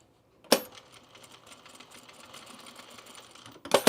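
A sewing machine runs steadily while stitching a pajama top seam, a continuous close mechanical whir lasting about three seconds, bracketed by sharp clacks at the start and end.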